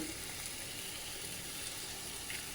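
Curry leaves sizzling as they hit hot oil for a tempering while cooking soybean dal, a steady, fairly quiet hiss and crackle close by with no speech over it.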